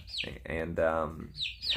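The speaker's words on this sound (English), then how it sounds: "I'm gonna rile up these chickens" Chickens give a short run of close, fairly soft clucks and squawky calls, each a brief rising-and-falling note, with barely a pause between them.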